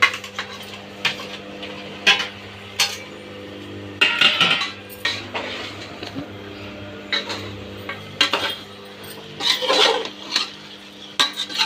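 A spoon clanks and scrapes against a metal pot while mutton is stirred into curry gravy, with irregular clinks and thick, wet mixing sounds up close.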